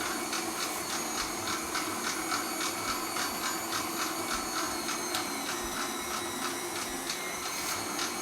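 A meat grinder works through Italian sausage meat, a continuous mechanical whir with fast repeating scraping and rasping, steady and fairly close, with no talk.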